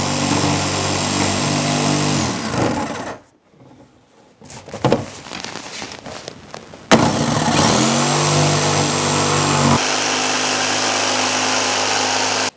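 A power tool whines and cuts into a Yamaha Tmax 500 scooter windscreen, running loud and steady, pausing briefly in the middle with a few rough bursts, then resuming its continuous drone to the end.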